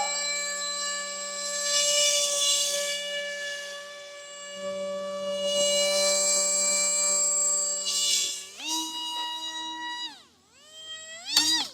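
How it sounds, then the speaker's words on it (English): A small electric motor on an RC paraglider whines steadily at half throttle during takeoff, its pitch holding level, then wavering and surging near the end. "it does say to go half throttle, so we have it at half throttle"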